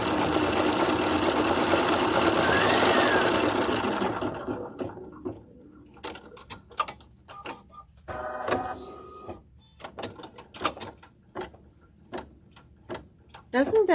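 A sewing machine stitches a zigzag appliqué in a steady, loud whir for about four seconds, then falls silent while a person talks, with faint clicks and handling noises between the words.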